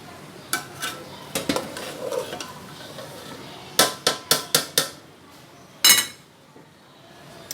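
Aloo tahari rice being stirred in a pot, with sharp metallic clinks and scrapes of a spoon against the pot, scattered at first and then a quick run of four or five knocks, over quiet background.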